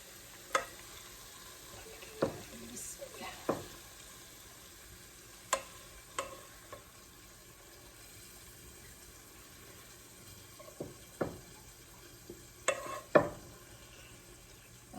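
Small fish and pumpkin frying in plenty of oil, a faint low sizzle with scattered sharp utensil scrapes and taps every second or two, fairly quiet and close, with no talk.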